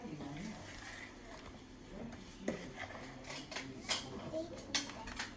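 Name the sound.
mixing cake batter in a bowl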